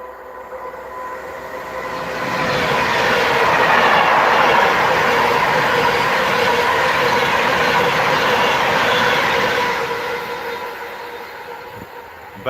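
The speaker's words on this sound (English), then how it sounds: "Pendolino." A Pendolino train on the West Coast Main Line north of Crewe swells from a distance into a long, loud rumbling pass with faint wheel clatter, then fades away, with no talk.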